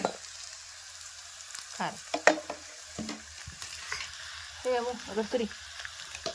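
Browned onions sizzle in a pan with salt, chili powder and turmeric as a spoon stirs and scrapes in uneven strokes, while someone talks over the cooking.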